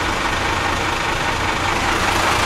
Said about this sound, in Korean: 이렇게 올려준 후에 시끄러우니까 시동을 끌게요